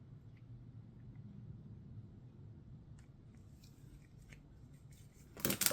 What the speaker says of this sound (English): now I'm going to trim off the from the piping bag.